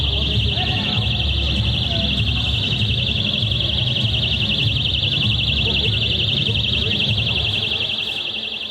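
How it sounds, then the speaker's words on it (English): Several personal rape alarms shrill continuously at a party, a steady piercing high-pitched tone held for the whole stretch over a low crowd murmur and background chatter. "So those are the rape alarms going off."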